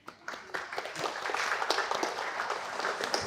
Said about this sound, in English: you need to clap very quietly for them